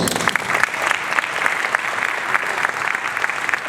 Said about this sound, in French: On applaudit bien fort, madame.